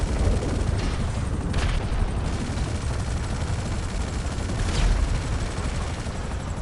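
Sustained machine gun fire from a GTA Online shootout, a dense continuous rattle of rapid shots with a couple of louder bursts, close and steady with no talk over it.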